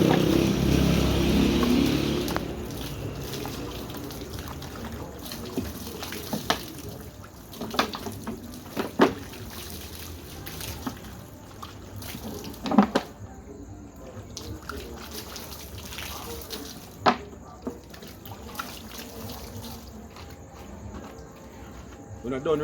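Water splashes and pours at night while rinsing off a small butter pan, with dense cricket chirping behind it, scattered clatter and brief low voices.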